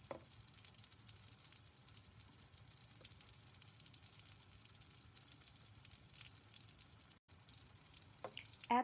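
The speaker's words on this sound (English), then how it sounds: "make sure that you rinse out the beaker by using the sulfurous acid to wash down the side." Sulfurous acid wash drains through a filter funnel while copper(I) chloride is prepared in a lab, a steady close trickling hiss. Near the end comes a brief glassy clatter.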